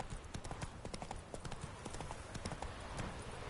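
Roach the horse galloping in The Witcher 3, a fast, steady run of hoofbeats close up that lasts throughout, with a faint voice now and then underneath.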